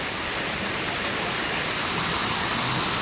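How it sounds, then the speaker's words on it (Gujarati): Loud, steady rush of falling water from a nearby waterfall along the Kedarnath trail, filling the whole clip as a constant roar. "મસ્ત આવે છે ને વોટરફ્લો"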